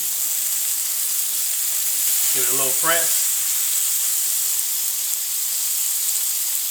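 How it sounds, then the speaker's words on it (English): Steady broadband sizzle of a burger patty frying on a griddle at 380 degrees, continuous hiss with a brief spoken phrase in the middle. "It's starting to sizzle."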